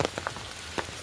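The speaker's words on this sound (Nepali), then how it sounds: "अनि पानी पर्ने टाइमै हो नि त" Rain falls in Darjeeling with a soft, close patter, a few distinct drops ticking on a surface over a steady hiss in a very short moment.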